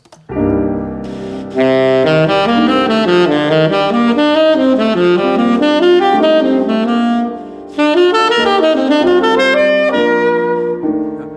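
Clean guitar plays alternating seventh-chord arpeggios in a blues style, notes rising and falling in a steady stream with a brief pause midway.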